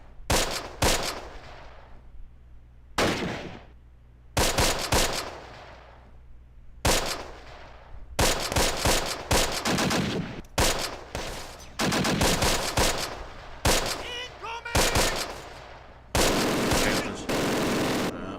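MG-42 machine gun fire in the Close Combat video game: repeated sharp bursts of rapid automatic fire separated by short silent gaps, loud and close, with occasional heavier thuds.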